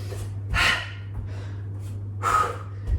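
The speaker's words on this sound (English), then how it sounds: "Nice noisy exhales." Three forceful, breathy exhales puff out one after another during a yoga HIIT workout, close and loud, with a low steady hum underneath.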